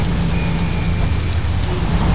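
Steady heavy rain falls in the Mafia game, a dense, constant hiss of drops on surfaces with a low rumbling undertone, loud and close with no talk.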